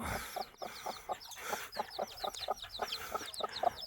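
Seven chicks play in an indoor enclosure, tugging at an earthworm between them, clucking in short repeated bursts with high, quick peeping chirps scattered throughout, close and lively.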